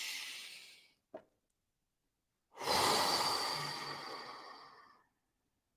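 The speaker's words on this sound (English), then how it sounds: "We inhale." A deep, breathy inhale lasting a few seconds, preceded by a long exhale and a brief sharp sniff, close and alone in a quiet room during a guided breathing exercise.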